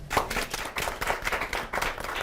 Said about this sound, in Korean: 오늘 MC분 두 분께 박수 부탁드리겠습니다